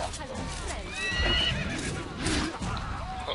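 A horse neighs in Assassin's Creed: Brotherhood, a loud close whinny with hooves clip-clopping under it, while a person talks over the sound.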